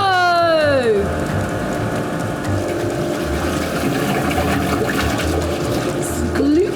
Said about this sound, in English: That's because the disperser blade is spinning really fast and it makes a lot of noise.